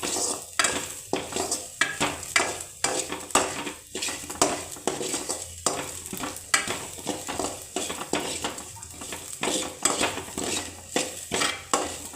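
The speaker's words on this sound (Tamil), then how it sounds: "இதை போட்டு நல்லா வதக்கிக்கோங்க." Fennel seeds and poppy seeds for tomato kurma being stirred and sautéed in a pan: repeated scraping clinks of a spoon against metal over a soft sizzle, in a steady irregular rhythm, close and without talk.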